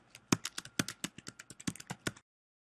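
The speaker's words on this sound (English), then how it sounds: "I'm going to click the note, which brings up a note area where I'll type my note." Fingers tapping out a short note on a computer keyboard: a quick, uneven burst of about fifteen close, crisp key clicks that stops after two seconds, followed by silence.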